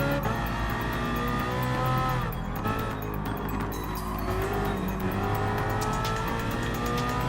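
A BMW M3 Nürburgring 24-hour race car races in Gran Turismo Sport's Gr.3 class, its engine roaring loud and close with revs climbing and dropping through gear changes, plus brief bursts of tire squeal and no talking.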